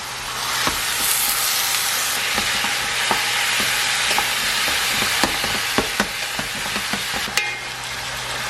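Taco-seasoned meat fries in a pan with a steady, close sizzle and hiss, broken by sharp scraping clicks as it is stirred.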